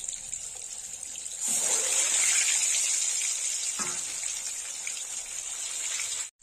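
An egg seasoned with turmeric and salt hits hot oil, and a sudden loud sizzle starts after a quiet moment, then holds as a steady close hiss before cutting off.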